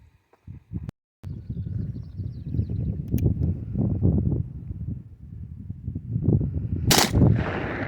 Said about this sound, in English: That sounded like a chain fire.